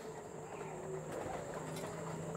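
Pigeons imported from Chennai, kept for sale, coo in low repeated murmurs that sit steadily under a constant background hiss and clutter, with no clear talk over them.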